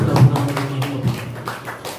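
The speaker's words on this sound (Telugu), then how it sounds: "చప్పట్లు కొడుతూ" Several muffled claps land in an uneven rhythm at a Sunday church worship service, soft and close, mixed with a low hum.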